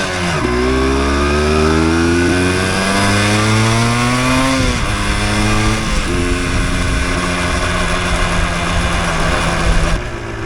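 A 1988 Yamaha DT200 two-stroke enduro motorcycle rides on a cold winter day, its buzzy engine loud and close as it revs up through the gears, drops back and climbs again.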